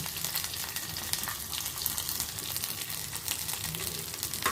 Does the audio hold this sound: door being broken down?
no